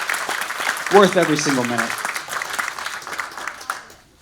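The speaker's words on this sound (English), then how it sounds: "These incredible stories, just give them another round of applause." Audience applause at a Malibu Veterans Day event in 2023 honoring veterans, with clapping under a speaker's voice into a microphone, then fading out toward the end.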